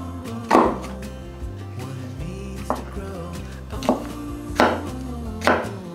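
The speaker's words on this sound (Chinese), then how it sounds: "准备一个青椒，把青椒的头去掉，把中指挖出来，给它切一半，一半用来切片" Knife cutting a green bell pepper on a board, a series of separate crisp chops spaced unevenly, close and clear, with a steady low hum beneath.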